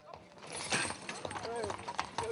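A horse-drawn cart on an exhibition grounds passes with a steady clip-clop of hooves, close and fairly loud, while people talk over it.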